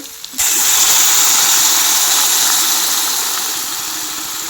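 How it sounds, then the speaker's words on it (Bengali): Water poured into a hot pan of rohu fish curry sets off a sudden loud, steady steaming hiss that starts abruptly and slowly eases over several seconds. "এর মধ্যে জল ঢেলে দেবো"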